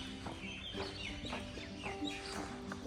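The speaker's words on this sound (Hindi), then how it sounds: "सिर्फ चिड़िया की आवाज़ सुनाई दे रही है" Birds chirp and call repeatedly on an early morning walk in Clementown, Dehradun, a mix of sharp chirps and clucking fowl-like calls at moderate distance, fairly quiet, with a low steady hum beneath and no talking.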